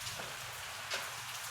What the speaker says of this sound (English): Yeah, we got some rain over here too.